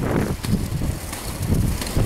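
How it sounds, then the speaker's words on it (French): Gusty wind buffeting a microphone while cycling along a road between Paris and Orléans, a continuous low rumble with uneven swells and no speech. "J'ai encore le vent favorable qui m'aide beaucoup."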